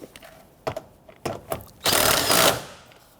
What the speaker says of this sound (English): Get that started, and then we'll tighten that down.